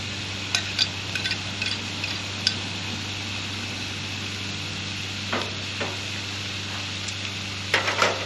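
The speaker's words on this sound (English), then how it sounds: "now that we've kind of got some of the bacon fat on our griddle, I'm going to put my onions on" Onions fry on a Blackstone griddle in bacon fat, giving a steady, even sizzle under a constant low hum, with occasional sharp scrapes and taps of a spatula against the metal surface.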